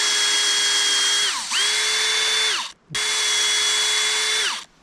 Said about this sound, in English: Just drill in.